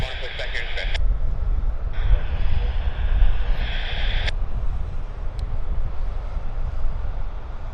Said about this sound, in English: So, now that he's out of the way, this can probably roll.